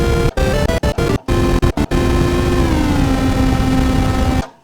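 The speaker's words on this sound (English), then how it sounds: "hey, that noise is pretty loud and it's kind of drowning out the tone sources" Loud hissing noise from a Korg MS-20 synthesizer, chopped on and off in short bursts and then held steady, with two sustained oscillator tones partly buried beneath it before cutting off.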